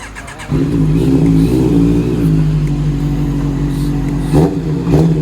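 A 2016 Honda CB650F motorcycle engine revs hard and holds at its rev limiter, a loud close buzzing drone with a couple of sharp blips near the end.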